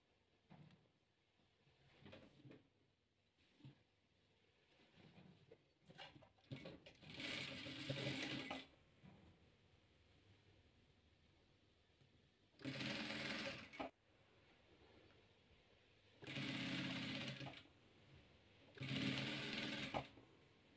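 A domestic sewing machine stitches rows of three-colour quilt patchwork in bursts: short taps at first, then four longer steady whirring runs of a second or two each, with quiet gaps between and no talking.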